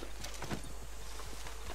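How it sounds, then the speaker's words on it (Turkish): Hooves of a horse-drawn cart in the western video game Red Dead Online clop faintly in a soft, quick rhythm over a steady low background hum. "At arabası gidiyor."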